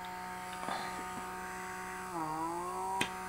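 An electric pore vacuum hums steadily as it suctions skin, its droning motor pitch dipping and shifting as it drags across the face, close and fairly quiet, with a faint click near the end.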